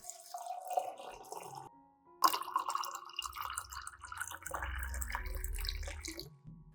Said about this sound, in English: Add 500 milliliters of clean water.